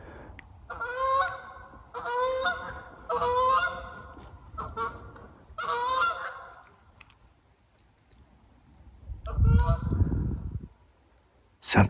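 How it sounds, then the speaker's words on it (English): Geese flying overhead honk repeatedly in rhythmic bursts, fairly close, followed by quieter calls, a rustling thump in leaves and more honking. "Those are geese flying over."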